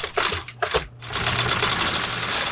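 An industrial sewing machine double-stitches thick layers of a handmade hiking boot with triple-ply thread. A few quick stuttering bursts give way to a steady, loud, close mechanical whir.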